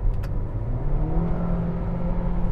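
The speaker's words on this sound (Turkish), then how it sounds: "Yani 5500 devirden sonra biraz motor sesi evet içeri alıyor." A Suzuki Vitara engine revs at high rpm, heard from inside the cabin as a steady, strained mid-pitched drone with road and tire noise underneath.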